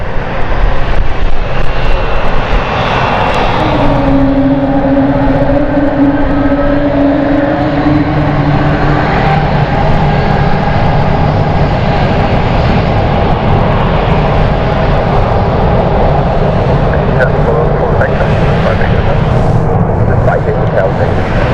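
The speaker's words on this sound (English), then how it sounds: "So Swiss Airbus A220 here going to Geneva" Loud, continuous roar of a Swiss Airbus A220 jet at London City airport, engines droning steadily over twenty seconds with a whining tone near the start.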